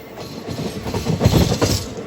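The Krishna Express runs along the line near Nellore, a close rumbling roar with rhythmic rattling that swells louder midway through.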